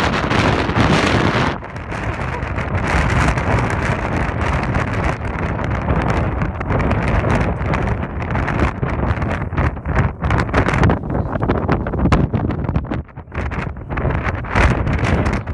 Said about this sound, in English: Insanely windy